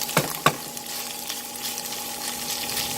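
Grass fed beef browning in a hot pan with shiitake mushrooms and long beans, a soft steady sizzle broken by two sharp scrapes or clinks near the start, with a faint hum underneath.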